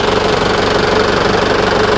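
A car engine idles steadily during an alternator charging test, a loud, close, even mechanical rumble with a regular pulsing beat and no voices.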